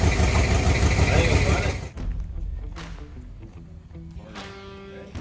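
Engine of a 1962 Ford Galaxie with a 2-barrel carburetor, a loud close rumble for about two seconds that drops to a lower idle, with a voice talking over it.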